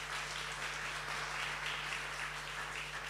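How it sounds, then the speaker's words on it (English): Audience applause at a San Francisco startup pitch event for proptech and real-estate companies, a steady, dense wash of clapping that holds evenly for a few seconds at moderate level with a faint electrical hum underneath. "Big applause for them, everybody."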